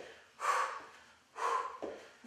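Heavy, forceful breathing during an interval workout, two long loud exhales about a second apart followed by a shorter sharp breath, close up and with no talk over them.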